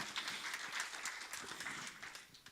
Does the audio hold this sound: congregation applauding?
yes